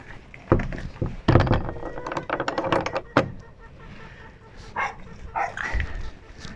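Dogs barking at home before being taken out for a walk: several sharp barks in a quick burst early on, then a few scattered, softer yips and thumps, fairly close with some room echo.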